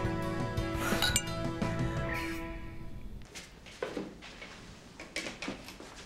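Glasses clink together in a toast: a few bright chinks over a sustained ringing tone, then scattered lighter clinks and soft clatter trailing off, close by with no talking.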